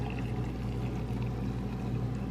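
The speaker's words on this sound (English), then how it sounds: "We're gonna add water." Warm water poured over cashews in a home kitchen to make cashew milk: a steady, close pouring rush that runs evenly for about two seconds, with no talking.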